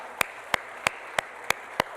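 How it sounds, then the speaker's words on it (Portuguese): At a church service, six sharp claps ring out at an even, steady beat, like hands keeping time over a low background wash. "vamos aplaudir a Jesus"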